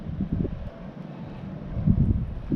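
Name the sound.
wind during a blizzard in Ottawa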